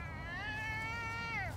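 A house cat howls for food in one long drawn-out meow, loud and close, rising and then falling at the end, with no talking over it.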